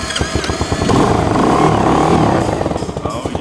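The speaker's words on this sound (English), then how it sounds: "We'll be able to crank it up and see how the first fire up does." A new Kayo ATV engine fires up close by, cranking in quick uneven pulses, then catching into a loud steady rattling idle that settles back into a choppy putter.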